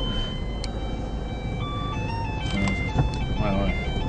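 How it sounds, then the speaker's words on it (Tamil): A vehicle approaches from behind on the left along a tree-lined road, heard as a steady traffic rumble with bright, chime-like tones rising over it. "லெஃப்ட் சைடு பின்னாடி ஒரு வண்டி வருது பார்த்துக்கங்க"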